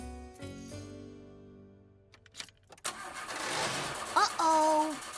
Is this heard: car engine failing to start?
yes